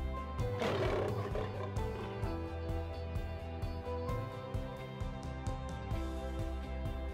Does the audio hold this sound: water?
no